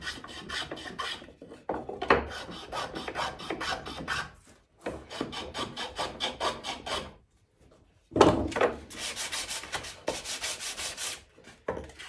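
A file rasps along the edges of a wooden sword in rapid back-and-forth strokes, close and steady, in several bursts separated by short pauses.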